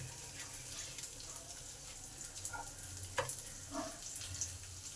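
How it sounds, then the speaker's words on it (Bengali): Chopped onions fry in oil with cumin and dried and green chillies, a soft, steady sizzle with a few light stirring clicks over it. "পেঁয়াজগুলো একটু ভালো করে ভেজে নিতে হবে।"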